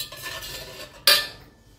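Black pepper, white vinegar and sauce ingredients mixed with a spoon for chilli chicken gravy: a soft scraping swirl, then one sharp clink of metal on the dish, close with no voices.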